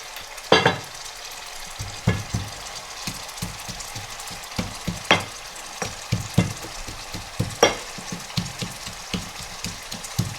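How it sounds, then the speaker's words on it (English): A handful of chickpeas crushed into a paste by hand, giving irregular soft thuds and gritty scraping taps, with a few sharper knocks standing out at close range against a faint sizzling cooking background. "I've taken about a handful of chickpeas and I'm just going to crush these into a paste"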